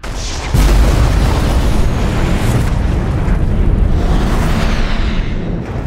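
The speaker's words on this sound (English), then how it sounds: "Massive secondary explosions." Sci-fi space battle explosions from fired cobalt torpedoes in a Star Trek scene, a sudden deep booming blast that swells into a loud, sustained rumbling roar lasting several seconds.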